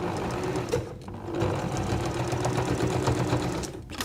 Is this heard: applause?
no